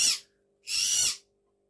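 A pet bird kept in a home calls twice, loud and close. A short, harsh screech is followed by a longer one, with a quiet room between them.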